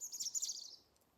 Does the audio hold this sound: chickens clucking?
no